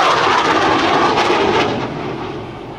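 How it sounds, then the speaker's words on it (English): AV-8B Harrier II jet roaring during a demonstration at the 2006 MCAS Miramar airshow, a loud, close, broadband engine rumble that fades slightly as the aircraft moves off. "Now the Harrier is capable of doing surface, and normally they will use the rolling start on the takeoff"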